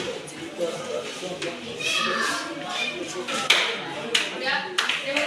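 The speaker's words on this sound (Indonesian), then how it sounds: "Berikan tepuk tangan pada teman-teman." Classroom applause after a group presentation, a burst of many hands clapping from a group of students, with children's voices talking over it.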